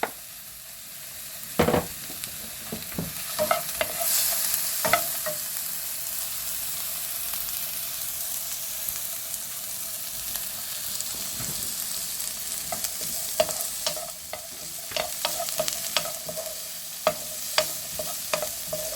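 Chopped onion and two garlic cloves sauté in a pan, a steady sizzling hiss broken by frequent spoon scrapes and stirring clinks, close by, with no voices.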